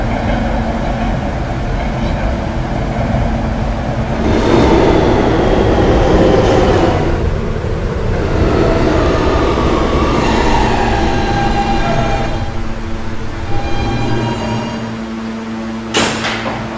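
R160 D subway train in Roblox running along the Fifth Ave line, a steady loud rumble and hum of the moving car with rising and falling motor tones and a sharp door-like clunk near the end.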